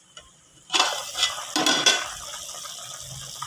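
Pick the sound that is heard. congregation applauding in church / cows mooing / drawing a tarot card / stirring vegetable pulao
stirring vegetable pulao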